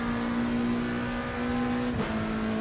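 A steady, droning McLaren race car engine in the racing game Assetto Corsa Competizione at Imola hums at constant pitch, with a brief dip and shift near the end, fairly quiet with no talking.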